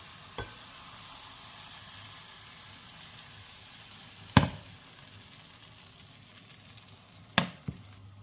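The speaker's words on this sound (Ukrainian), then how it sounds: "На розігріту сковорідку я наливаю трішки рослинної олії, розподіляю по сковороді і буду виливати тісто" Yeast pancake batter fries in vegetable oil in a hot pan with a soft, constant hiss, while a few sharp utensil clinks ring out at intervals close by.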